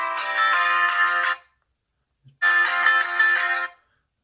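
A loud ringtone from a Nuu Mobile G3 phone's bottom-firing speaker plays in two bursts of about a second and a half each, separated by a short silence.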